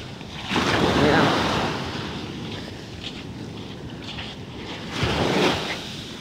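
Ocean waves roll onto a dark beach at night, two surges swelling and receding close by with a steady wash and some wind buffeting between them.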